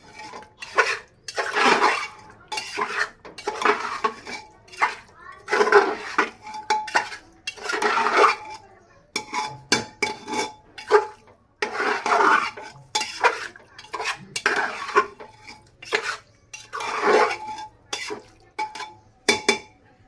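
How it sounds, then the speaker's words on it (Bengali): A spoon scrapes and clinks against a pot while raw beef is mixed by hand-held spoon in a home kitchen, giving repeated close, uneven bursts of stirring and metallic scraping with short pauses between strokes. "আমি হাত দিয়ে না চামচ দিয়ে মাখিয়ে নিলাম।"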